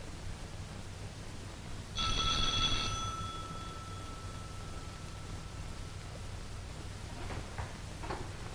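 In a 1937 crime film, an old telephone bell rings once for about a second over a constant background hiss; faint ticks follow later.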